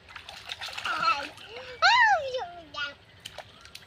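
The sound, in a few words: child splashing while swimming with a tyre tube in Ichamati river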